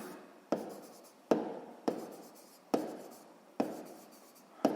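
Chalk or pen writing out a math solution: five sharp strokes, each a crisp tap followed by a short scratching trail, evenly spaced, close and fairly quiet, with no talk.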